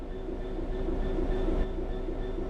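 A train in the Train Sim World 3 game brakes toward a stop, a steady, loud rumble of rolling wagons with faint tonal whine running throughout, no voices.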